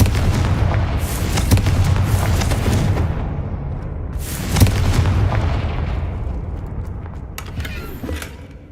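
A Confringo fire spell exploding in Hogwarts Legacy: a heavy, rumbling boom with sharp cracking bursts, another blast a few seconds later, then a roaring tail that fades away.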